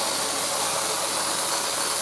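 A Numatic Basil NB200 vacuum cleaner runs with only the bare nozzle end fitted while cleaning a bedroom, giving a steady, loud, broadband whooshing roar with no breaks.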